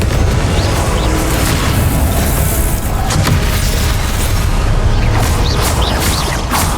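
Confringo explosive spells from the Hogwarts Legacy video game fire amid combat, a loud, continuous barrage of booming blasts and crackling impacts that barely lets up throughout.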